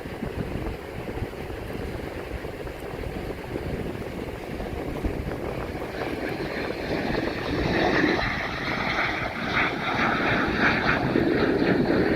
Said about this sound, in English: this is a World War II F4U Corsair coming in